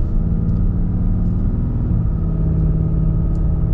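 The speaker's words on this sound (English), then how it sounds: "Gotta love the sound of the Cummins." Cummins diesel engine of a 2022 Ram 2500 Mega Cab Limited truck rumbling low and steady while driving, a close, continuous drone with no talking.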